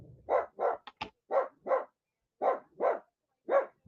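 A dog barks sharply at a cat outside, giving about nine loud, close barks in uneven pairs and singles with short silences between them.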